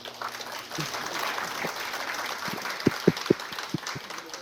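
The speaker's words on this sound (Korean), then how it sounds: "큰 박수로 박원희 원장님을 모시겠습니다" Audience applause welcoming a speaker onto the stage at a Korean health lecture, a moderate wash of clapping with a few sharp louder claps near the end.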